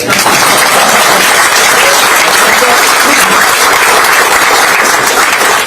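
An audience at a Democratic Party political speech applauds loudly and continuously, a thick, even roar of clapping with some crowd noise mixed in throughout.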